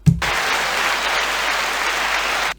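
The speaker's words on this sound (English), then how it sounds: "Although the round of applause was also suitable." A round of applause, likely a sound effect dropped into a podcast conversation, starts abruptly after a brief low thump and runs as an even, uniform crowd clap before cutting off sharply.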